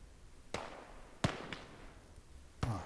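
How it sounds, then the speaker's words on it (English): Rifle fire in the World War II strategy game Gates of Hell, three sharp separate cracks spaced about a second apart, each with a short rolling echo over a low battlefield hum. "Oh, our snipers are joining in."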